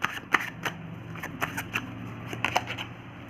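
Tarot cards being shuffled and drawn, a run of crisp papery flicks and snaps at close range over a low hum.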